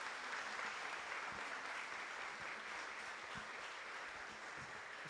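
Sustained applause from an audience at a book presentation in a council chamber in Veracruz, honoring the author, a steady wash of clapping at low level with scattered louder claps.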